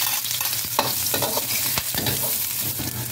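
Onions and garlic sauté in a hot pan while a utensil stirs and scrapes, a steady close sizzle broken by sharp clacks and no voice.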